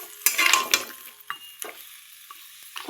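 Vegetables and onions frying in a pan for a fish curry with ridge gourd and pointed gourd, a short burst of loud sizzling and stirring that fades to quiet, with a few spatula scrapes.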